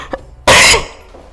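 One harsh, loud cough bursts out close to the microphone, preceded by a faint short sound and followed by quiet room tone; the person has had a cough for two months.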